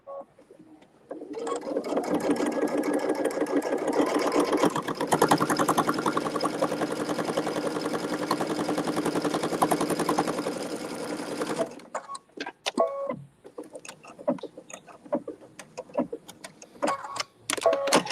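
A domestic sewing machine stitches an edge-to-edge snowflake design on a quilt, running in a steady, fast, loud whir for about ten seconds before stopping, followed by scattered clicks and brief handling noises.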